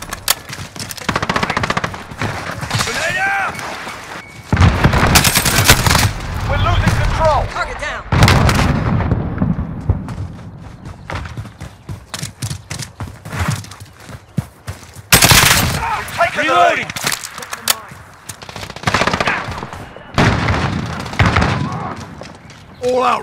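Gunfire in the video game Modern Warfare crackles in rapid bursts and single shots, with heavy booming blasts mixed in, while voices call out over the ongoing firefight.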